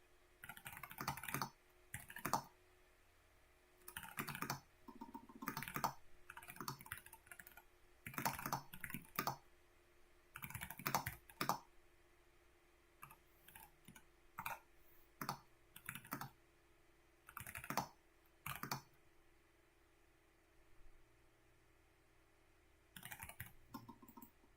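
Bursts of rapid typing on a computer keyboard, clusters of close clicky keystrokes separated by short pauses, repeating across the stretch with a faint steady hum underneath and no speech.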